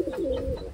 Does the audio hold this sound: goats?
no